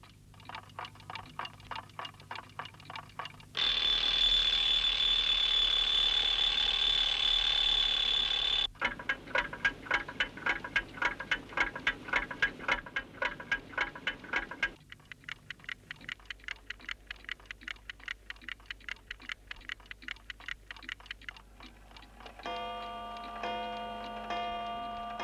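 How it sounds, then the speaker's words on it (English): Many clocks tick at once in a 1969 animated children's series, with overlapping steady ticking that shifts in pitch and pace, a high whining tone in one section and chiming notes near the end. "All the clocks here are saying a different time, and some can't even tick properly."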